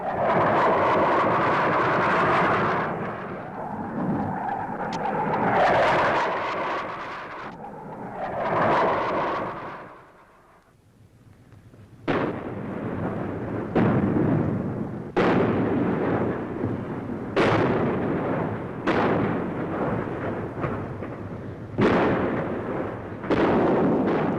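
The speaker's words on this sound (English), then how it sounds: "the guns open up over the heads of our own troops, plastering the ground and laying smoke to cover the advance" Artillery guns firing over advancing paratroopers, laying smoke on a long hillside. The sound is a run of heavy booms, first a rolling rumble, then repeated sharp blasts after a brief lull.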